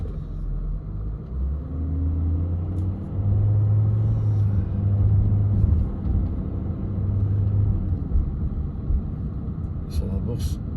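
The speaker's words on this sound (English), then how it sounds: "So the bus appears to be pulling in here" A London bus pulls in to a long bus stop outside Hamleys, its deep engine rumble droning and shifting as it slows amid busy street noise, with a sharp hiss near the end.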